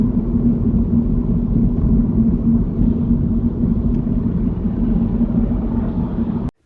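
A car climbs a hill on a road near Durham during a UK driving test, its engine a low, steady rumble with cabin drone that holds constant before cutting off abruptly at the end.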